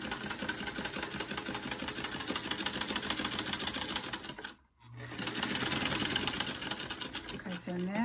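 A vintage Singer sewing machine stitching a harlequin piece, running in a fast, steady mechanical clatter nearby, pausing briefly about halfway through before starting again, with faint talk toward the end.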